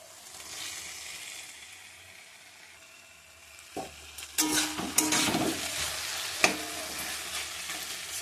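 A fish head dropped into hot oil in a pan, quiet at first, then a sudden loud sizzle and spatter that keeps crackling steadily nearby.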